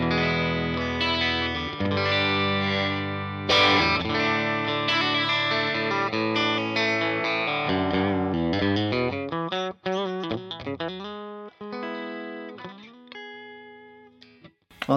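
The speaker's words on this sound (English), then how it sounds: "my clean tone on the bridge sounds like this" Clean-toned electric guitar on the bridge pickup through a Fender Blues Jr amp, playing chords and melodic runs up close and alone, notes ringing with some ambience before a choppier, staccato passage near the end.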